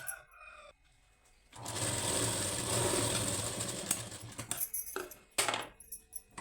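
A sewing machine stitches a blouse neck in one continuous run of about two and a half seconds, with quieter handling noises and short rustles before and after it.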